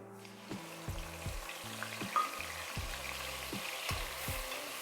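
Masala paste of tomato, ginger, garlic and onion frying in oil in a pan, with a soft sizzle under rhythmic spoon scrapes and knocks repeating about every second.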